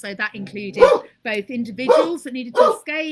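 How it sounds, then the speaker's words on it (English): A dog barks indoors, apparently reacting to someone at the door, with several short sharp barks and yips mixed in under a person's continuous talking close to the microphone. "sorry about the dog, I think there's somebody at the door"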